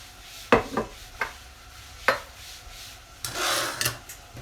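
Coriander being stirred into tomato sauce in a home kitchen pan for a Mexican bean, bacon and beer soup: a few short scraping, rubbing strokes at close range, separated by quiet pauses, with no talking.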